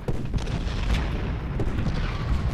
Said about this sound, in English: We're getting, obviously, bombarded in cannon fire here